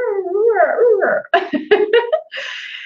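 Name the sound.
voice imitating a large dog whimpering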